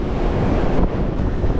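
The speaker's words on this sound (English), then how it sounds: "Captain said 5 to 6 meters on the waves, and we have gale force winds coming from some direction." Gale-force wind roars steadily with rushing waves around a cruise ship on rough seas off Norway, a dense, loud broadband wash with wind buffeting the microphone and no voices.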